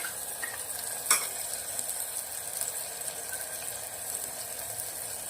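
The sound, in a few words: soaked masala added to hot pan, sizzling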